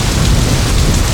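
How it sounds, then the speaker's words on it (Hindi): Heavy rain pours down steadily in a dense, loud, unbroken hiss, with a low rumble underneath and no voices. "बारिश जोरों से हो रही है"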